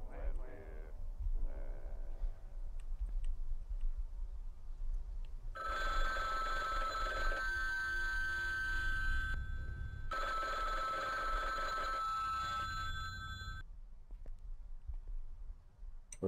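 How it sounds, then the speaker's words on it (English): An old-style telephone bell ringing in the horror game BloodWash, two long sustained metallic ring bursts separated by a short gap, loud and bright, with a player breathing and talking around them. "I hear a phone ringing."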